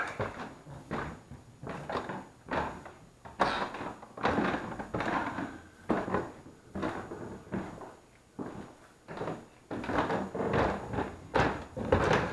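Wooden stairs in Beattie Mansion being climbed: creaky, loud steps repeating in an even rhythm, close up with a hollow thud on each tread.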